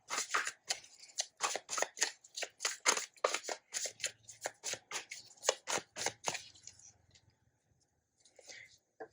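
Tarot cards are shuffled in quick, crisp bursts of riffling and snapping, close and dry, then a card is drawn, ending in a few soft rustles.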